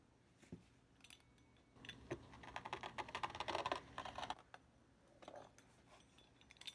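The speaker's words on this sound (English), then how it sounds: "I'm going to cut small strips out of him." Knife cutting Danish pastry dough into small strips on a work surface, a few soft taps and clicks then a denser run of quick scraping cuts, close and fairly quiet.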